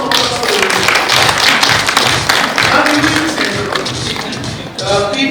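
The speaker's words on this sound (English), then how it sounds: "So one round of applause for the women." A crowd claps steadily and densely for several seconds at a leadership awards ceremony, the sound full and close, with a murmur of voices mixed in.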